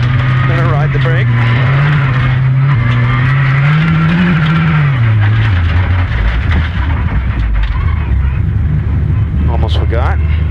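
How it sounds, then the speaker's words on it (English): A rally car engine drones loudly up close, its pitch rising and then dropping sharply as the driver trail brakes into a pendulum turn and shifts, with talking over it. "Here I trail brake into a pendulum turn for the brake in the turn and a shift."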